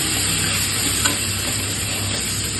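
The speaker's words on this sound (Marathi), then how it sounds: "आता त्यामध्ये टाकूयात आपण आलं लसूण पेस्ट तीही छान परतून घ्यायची आहे" Ginger garlic paste fries for mutton curry in a hot pan, a dense continuous sizzle that stays loud and close throughout with almost no variation.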